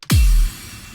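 A single booming impact hits hard, with a deep low-end thud that sweeps downward and fades into a faint hiss.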